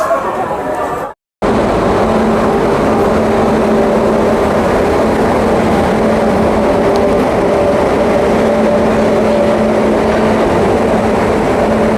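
Jan Shatabdi Express between Raigarh and Gondia, hauled by a Bilaspur-shed electric locomotive built at Chittaranjan Locomotive Works, rolling with a continuous loud rumble and hum heard from on board, interrupted by one brief dropout near the start.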